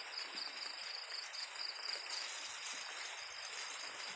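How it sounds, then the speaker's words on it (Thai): Steady hiss of rain falling outdoors, even and continuous, with a faint insect-like chirp threaded through it. "เพื่อนๆได้ยินเสียงฝนไหมฝนตก"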